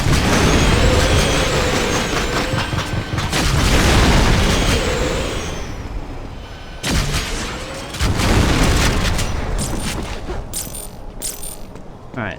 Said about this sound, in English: They just have rockets in my face.